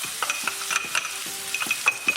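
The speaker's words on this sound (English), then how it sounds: "so I'm going to add the garlic." Garlic sizzles as it is stirred into a pan of courgettes that have been cooking for a while. A close, steady hiss is broken by rhythmic scrapes and clinks from the stirring utensil.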